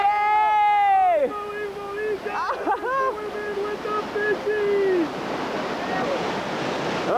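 Big whitewater waves roar steadily on the New River rapids, a loud, broad rushing wash that stays close throughout, with excited voices shouting and talking over it.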